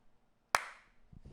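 A single sharp, close hand clap rings out in a quiet room, its decay trailing off, followed by a couple of softer taps.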